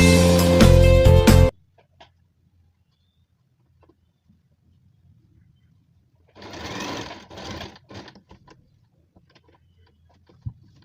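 A sewing machine stitches a frill on a girl's frock in a loud rapid burst at the start, then stops. After a long quiet gap it runs again in a softer, shorter stretch of stitching, with small handling clicks around it.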